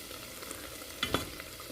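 A quick stir of jackfruit cooking in a pot gives a brief scrape and clink over a steady faint sizzle, one short stroke near the end.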